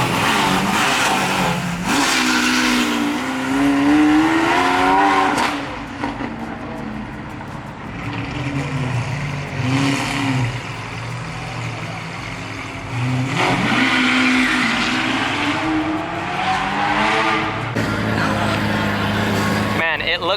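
A Lamborghini Huracan STO supercar pulls away from a Texas car show, its engine rising in loud revving bursts with gear-change dips, mixed with crowd chatter and talking throughout.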